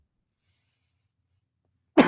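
After nearly two seconds of silence, a single sharp, close cough bursts out right at the end.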